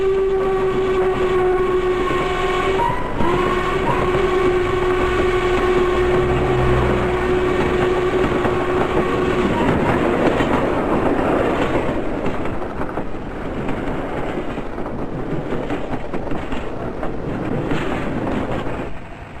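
Norfolk Southern steam locomotive number 1218 passes close by, a long sustained whistle blast giving way to a loud, steady roar of rolling wheels and train cars.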